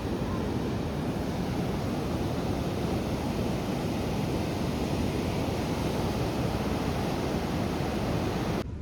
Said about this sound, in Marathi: आणि समोर आहे समुद्र